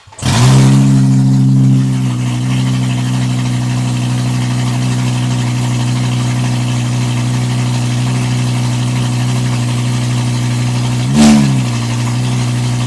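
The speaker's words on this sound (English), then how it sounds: "let's just try to run the car and see what happens" A Mk2 Volkswagen Golf GTI with a five-cylinder engine cranks and catches, then settles into a steady, loud idle with a brief blip of revs near the end.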